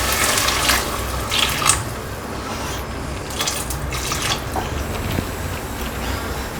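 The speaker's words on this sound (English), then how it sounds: "Now we will add hot water." Hot water is poured into a cooking pan of Manchurian sauce for cauliflower, making a steady close splashing and trickling with a few brighter drips and clinks.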